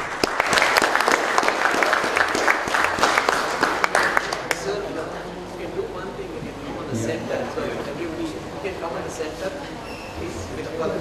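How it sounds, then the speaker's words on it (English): Audience applause at an award ceremony: a burst of dense clapping over the first few seconds that thins into scattered claps, with voices talking in the room. "Can we please join hands in applauding their contribution?"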